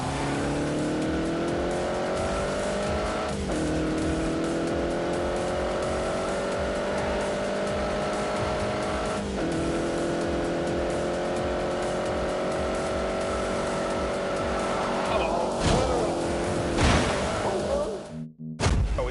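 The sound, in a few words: car engine driving in The Grand Tour video game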